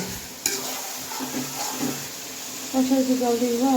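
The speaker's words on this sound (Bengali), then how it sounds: "এই যে মাংসটা সিদ্ধ করতেছে, কষতেছে।" Bird meat sizzling and being stirred in a pot for khichuri, sautéed until browned; a sharp clang of the spoon early, then soft scraping and frying hiss while people talk over it.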